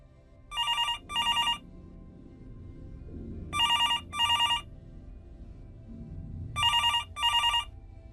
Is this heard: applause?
no